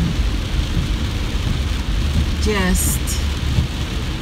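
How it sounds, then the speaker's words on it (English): Heavy rain pours steadily outdoors as a constant broadband hiss, with a brief spoken word near the middle. "I'm heading home in the rain. It is raining."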